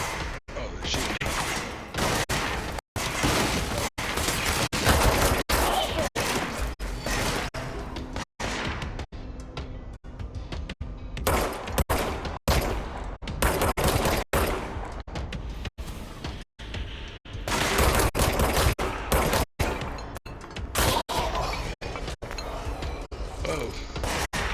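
Enemies fire guns at the player in the game Control, producing dense, loud bursts of gunfire with sharp impacts and brief gaps, sustained for the whole stretch.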